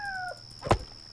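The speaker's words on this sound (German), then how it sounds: "Schon wieder eine Katze." A cat in the video game Yonder gives one short, close meow. It rises over a steady, quiet game background with no voices.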